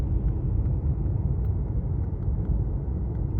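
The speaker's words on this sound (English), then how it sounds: "the car is just going right around loop the loop" A car driving itself on Full Self Drive around a looping road, giving a steady low road and engine rumble heard from inside the cabin at an even pace, with no talking.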